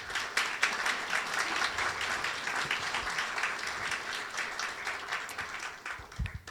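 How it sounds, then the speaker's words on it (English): Sustained audience applause fills a museum reopening ceremony, steady dense clapping from a crowd lasting throughout without talk. "Please give them a round of applause."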